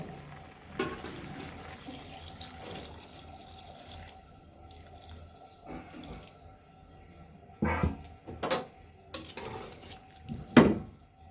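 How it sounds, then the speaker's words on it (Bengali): Water is poured into a pot of half-cooked vegetable curry with lentil dumplings, giving a few splashy pours and drips, quiet at first, then louder closing splashes. "এখন আমরা জল দিয়ে দিব"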